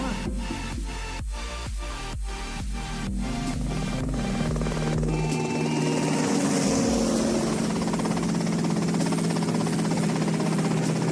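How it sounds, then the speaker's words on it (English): A helicopter in GTA Vice City, loud and close, its rotor chopping in a steady rhythmic pulse for the first half before blending into a continuous engine and blade roar. "Okay, that's them in the chopper."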